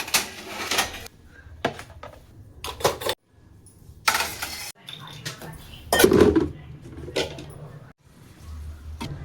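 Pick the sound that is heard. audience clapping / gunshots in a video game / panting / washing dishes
washing dishes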